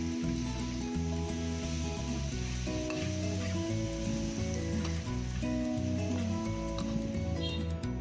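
Tuna sautéing with onion and garlic in a pan gives a steady, close sizzle and frying hiss. It runs evenly under prominent background music, with no talk.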